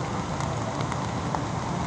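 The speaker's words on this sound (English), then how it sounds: "Wow, it's still raining, eh?" Steady rain patters down continuously, a dense hiss of drops hitting a surface with no voices.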